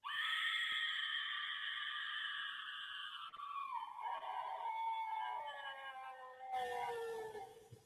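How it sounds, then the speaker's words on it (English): A Scream scarecrow figure toy lets out a long, wailing electronic shriek that sweeps slowly downward and shifts tone partway through, loud and continuous with no talking over it. "It is the little scarecrow looking Scream, and he sounds really cool."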